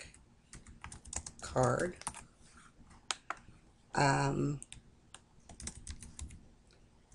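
Keywords are typed on a computer keyboard in quick bursts of close, crisp key clicks, with two brief spoken words interrupting.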